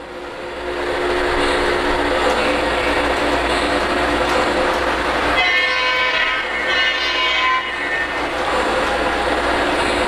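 A model train locomotive rumbling steadily along elevated track, loud and close, with a horn sounding partway through over the continuous running noise.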